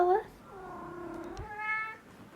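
A pet cat gives a couple of short, drawn-out meows, close and fairly clear, while a person speaks softly nearby.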